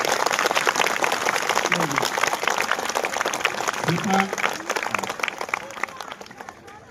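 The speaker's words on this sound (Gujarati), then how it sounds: "એમને ખૂબ ખૂબ તાળીઓથી વધાવી" Audience applause for donors at a school Republic Day function, a dense, steady clapping from a crowd lasting throughout, with some talk mixed underneath.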